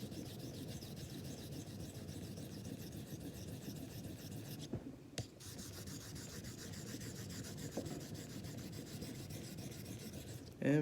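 A Swedish Jernbolaget straight razor is stroked across a hone to set its bevel, producing a steady, rhythmic scraping rasp of metal on stone, with a brief pause and a tap around the middle and a knock at the end.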